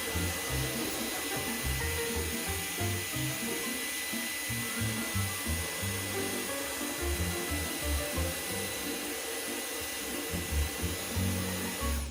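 A vacuum cleaner runs continuously up close, its steady whine overlaid with bumpy, rumbling scraping as it moves across a surface.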